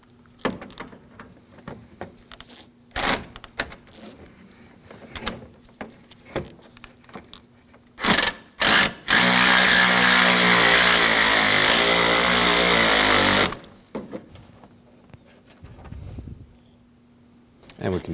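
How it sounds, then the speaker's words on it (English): Removal of the 10mm bolts holding the AC condenser to the chassis of a 2013-2015 Subaru XV Crosstrek: a few sharp clicks and clanks, then a loud sustained buzz of a power ratchet running for about four seconds, with faint clatter around it. "Now we can go ahead and remove the two 10mm holding the condenser to the chassis."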